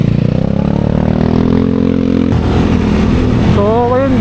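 A Honda Click125 scooter engine after a carburetor air adjustment, a loud close idle with a rising rev and rough engine chatter throughout, over a voice talking nearby.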